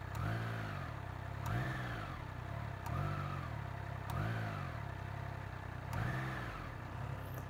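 A Triumph Trident motorcycle engine revs up repeatedly with twists of the throttle, five or so rising and falling blips at a steady idle in between, close and moderately loud with no talk.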